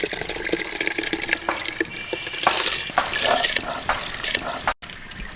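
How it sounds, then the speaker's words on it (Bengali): Soaked rice poured into a pot of hot water for khichuri, splashing and stirring sounds with clinks against the pot, close and moderately loud, ending in a brief cut. "জল গরম হয়ে গেছে, ভিজিয়ে রাখা চাল দিয়ে দেব।"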